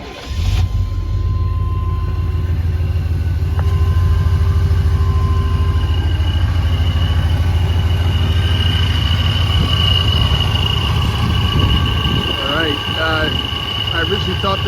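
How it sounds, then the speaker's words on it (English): A 1998 GMC Sierra 2500HD 4x4 on a cold start, its supercharged engine idling with a loud steady rumble and a thin high whine riding over it, with someone talking near the end. "That's the sound that supercharger has made"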